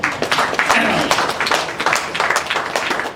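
A crowd applauds at a film success meet for Sanju Weds Geetha 2: dense, steady clapping fills the whole stretch, loud and close, with a murmur of voices underneath.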